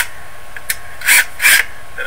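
A 1/4-inch drill grinds the head off a rivet in a car door glass track. Two short, harsh bursts of metal cutting come up close, with light scraping between them.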